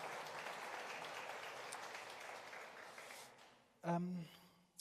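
An audience at an arts awards ceremony gives a round of applause, a broad clapping wash that gradually fades out before a voice briefly speaks near the end.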